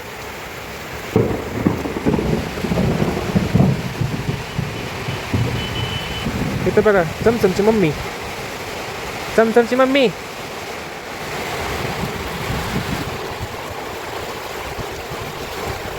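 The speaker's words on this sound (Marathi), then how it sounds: "लय पाऊस आला मित्रांनो" Heavy rain with gusting wind in a village yard with coconut trees, a steady broadband roar running throughout beneath several bursts of people talking and calling out nearby.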